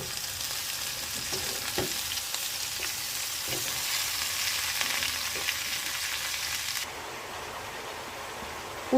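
Bottle gourd leaves hitting a hot pan and frying, a loud continuous sizzle with a few soft stirring taps, dropping slightly quieter near the end.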